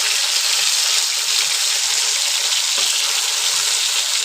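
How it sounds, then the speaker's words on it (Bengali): Bele fish frying in oil in a pan, a loud, continuous bright sizzle close up with faint low knocks of handling underneath. "উল্টে পাল্টে এরকমভাবে ভেজে নেবো কিন্তু আমরা সবকটাই মাছ"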